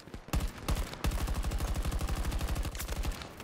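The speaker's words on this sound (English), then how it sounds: "This gun has a lot of recoil right now." Rapid automatic gunfire from Battlefield 2042 Hazard Zone, a few short bursts followed by a long sustained stream of evenly spaced loud shots, close up and without talking.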